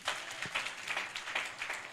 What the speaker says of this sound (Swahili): Simuongeze makofi yakifika